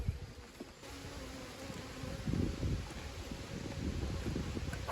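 A steady, low droning buzz of many honeybees around an open hive, a dense continuous hum that swells slightly louder midway, with faint wind noise.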